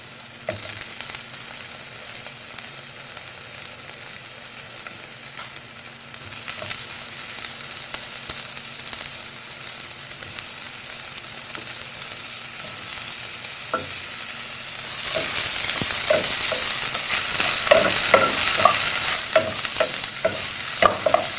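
Chopped tomatoes and shallots sauté in oil in a pan for a fish curry, giving a steady hiss of frying under stirring. The sizzle turns louder and brighter partway through, with scrapes and clinks from the utensil.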